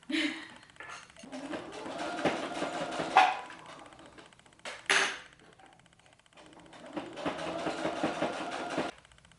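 A sewing machine joins skirt ruffle pieces in quiet stretches of rapid mechanical stitching, broken by a pause with a couple of sharp knocks and handling noises before stitching resumes.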